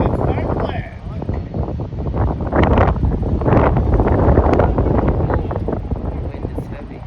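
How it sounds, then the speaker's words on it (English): Heavy wind buffets the microphone while a Freewing F-14 80mm radio-controlled jet flies in high winds: a loud, continuous low rumble with gusty swells and a voice faintly mixed in. "Wind is heavy."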